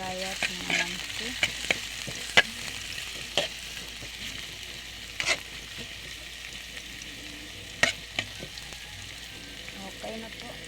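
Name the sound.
ginger sizzling as it is stir-fried in a pan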